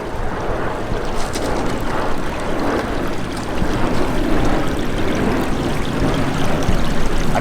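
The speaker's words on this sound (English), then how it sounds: "fish just love that little bit of flowing water" Water flows steadily into a pond from a large pipe about 12 to 15 feet long, a constant broadband rush and trickle that holds at an even level throughout with no voices.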